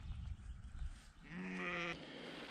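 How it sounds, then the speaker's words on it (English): A lamb separated from its mother bleats once, a clear wavering cry of about a second outdoors in a field, following wind and handling noise. "this little sheep, he's lost his mum"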